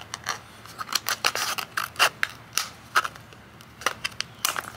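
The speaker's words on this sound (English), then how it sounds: "Just going to use some regular scissors." Ordinary scissors cutting a slit in plastic wrap during air layering of a Chinese privet in a workshop: a rapid series of close, crisp snips and crunchy scrapes, irregular but steady, with no talking.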